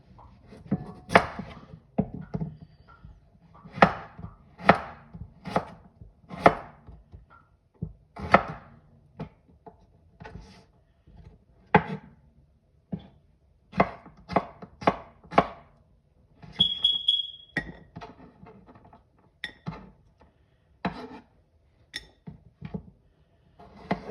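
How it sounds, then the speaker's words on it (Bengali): Raw carrots are chopped by knife on a cutting board for a salad, with crisp close taps coming in irregular quick bursts and short pauses. "সবগুলো আস্তে আস্তে কেটে আমি একটা বলে নিব তো সাথে থাকুন কিভাবে আমি কাটি দেখুন প্রথম গাজরটা নিলাম"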